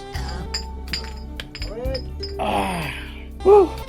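Glasses clink together in a toast in a club, a few bright chimes ringing out over background music and voices.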